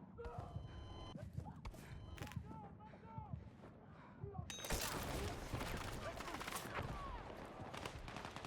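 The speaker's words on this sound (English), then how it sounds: "grenade launcher." Grenade launcher fire in the video game Battlefield 6, with bursts of gunfire and explosions that swell loudly partway through and continue as dense, busy battle noise, with voices and game chatter mixed in.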